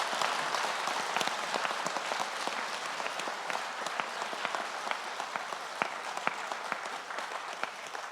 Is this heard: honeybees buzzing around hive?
no